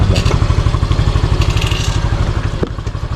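A motorcycle engine idles close by, sounding as a steady rhythmic putter with a faint clatter, with no revving.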